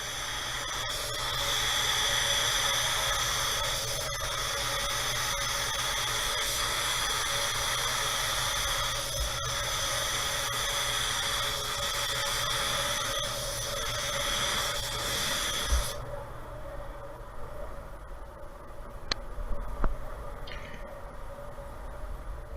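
A spray gun lays a full wet coat of Tekna clear coat onto a car panel, making a loud, steady hiss that runs unbroken, then stops abruptly and leaves quieter clicks and handling noise.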